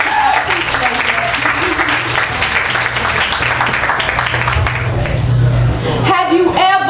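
Crowd at a poetry night in a Lawrence, Kansas jazz club gives Mr. Vaughn a loud, sustained round of applause, with cheering mixed in and a low hum underneath, before it breaks off and a voice begins.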